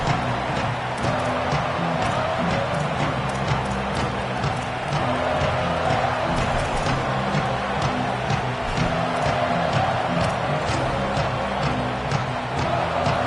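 A large stadium crowd at a Michigan versus Iowa college football game roars in a dense, continuous wash of sound that holds steady and loud throughout.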